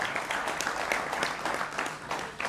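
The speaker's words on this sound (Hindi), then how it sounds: "उनका भी अभिनंदन है जोरदार तालियों के साथ।" Audience applause at a televised Bihar election discussion, a steady, fairly faint patter of clapping that holds through the whole stretch with no talk over it.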